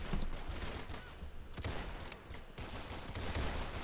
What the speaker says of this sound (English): I wanna headshot someone with this gun.